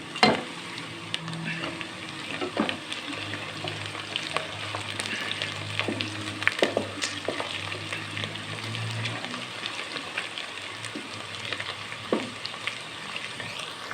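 Whole cumin, black cardamom and cloves sizzle in hot ghee with a steady crackling hiss, broken by sharp pops and scraping stirs, close and fairly quiet with no talking.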